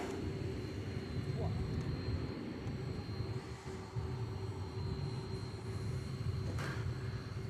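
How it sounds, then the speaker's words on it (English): A DHL Boeing 767-300ER jet operated by ABX Air rumbles steadily at a night airport, a continuous broad engine roar with a faint high whine, fairly close and sustained throughout. "It's Flight 102, DHL, operated by ABX Air. It's a 767, 300ER."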